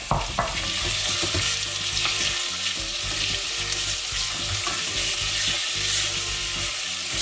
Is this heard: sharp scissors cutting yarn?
no